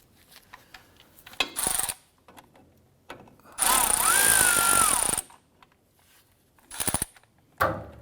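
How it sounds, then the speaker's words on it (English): A power tool zips out wheel cylinder bolts on the drum brakes of a 1994-2004 Chevrolet S10 in short bursts, one longer whining run in the middle and several brief ones around it, loud and close. "we can now go ahead and remove the bolts completely from the back of our wheel cylinder"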